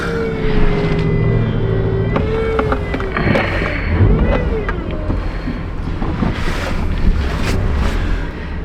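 A 2009 Subaru Forester climbs over a hill, heard as a loud, steady rumble of engine and road noise with heavy wind buffeting and a faint, wavering whine on top.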